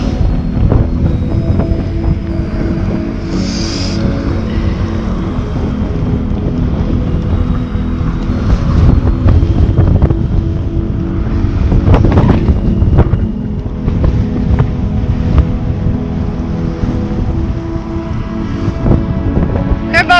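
Strong wind roars and buffets the microphone continuously while cycling through Reykjavik streets, with heavy low rumbling gusts surging throughout and rushing water beneath.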